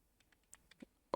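Soft, close keystrokes tap on a computer keyboard in a short irregular burst of five or six clicks, ending on one firmer press, with no voices.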